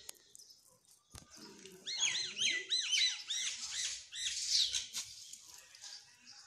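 Birds call in quick repeated chirps and squawks, a lively burst of overlapping calls from nearby after a sharp knock.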